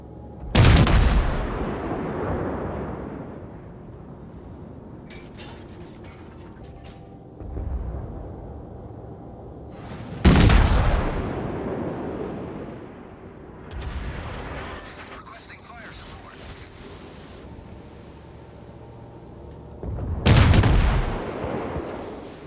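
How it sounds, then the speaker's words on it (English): Battleship shell fire in World of Warships comes as heavy booming salvos, three or four loud blasts spaced several seconds apart, each rumbling out with crackle, and fainter distant gunfire in between, while players talk. "I don't like getting shot at by all those battleships."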